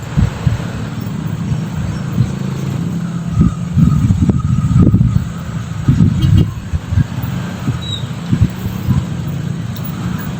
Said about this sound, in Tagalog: Diretso lang yung takbo ng motor.